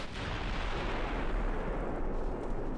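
Naval gunfire from the warship game Ultimate Admiral Dreadnoughts is heard as a heavy, booming artillery blast. The rumbling, roaring burst fills the whole short moment, with no talking.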